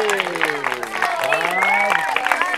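Guests at a bat mitzvah celebration clap and cheer for the live band in a brief, lively burst, the applause mixed with excited voices and shouting.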